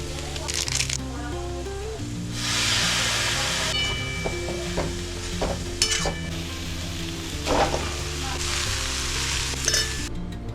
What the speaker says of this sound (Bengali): এই যে এবার চিড়ের পোলাওয়ের মধ্যে শুধু চিড়ে দেবো, এটার মধ্যে মিক্স করবো